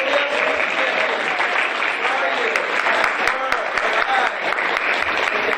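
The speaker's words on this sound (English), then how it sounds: "Stand up for one more clap." An audience at a young composers' concert night claps in a steady, dense wash of applause, with a few sharper individual claps standing out near the end.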